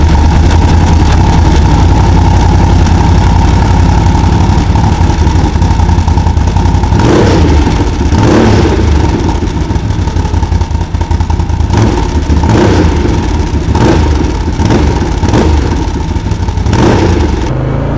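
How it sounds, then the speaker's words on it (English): A motorcycle engine fitted with an HMF Racing Titan QS aftermarket full exhaust system idles with a deep, steady burble, then gets several sharp throttle blips that rise and fall in quick bursts. "This way you can hear how the new exhaust sounds"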